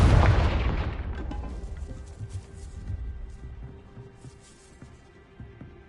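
A Confringo blasting spell from a Hogwarts video game erupts in a loud, close booming explosion that rumbles and fades over several seconds into a crackling tail, with no voices.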